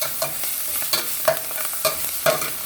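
Organic bok choy and kale stir-frying over high heat, a steady sizzle broken by repeated scraping stirs of the pan, close and with no talking.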